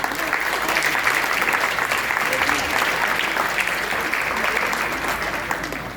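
An audience applauds the PWD team at a school opening ceremony for Rana Pratap Sarvodaya Kanya/Bal Vidyalaya, Rithala Sector-5, in steady, dense clapping that holds throughout at a fairly loud level with faint crowd murmur.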